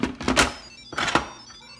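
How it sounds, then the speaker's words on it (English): Instant Pot lid being placed and twisted on, two clear clunking contacts with a short scrape between, close and distinct. "Time to put on the lid."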